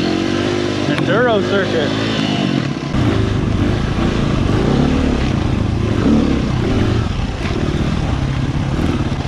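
A Honda XR100R dirt bike rides on an enduro trail, its small engine buzzing loud and close with shifting revs throughout, while a rider talks over it.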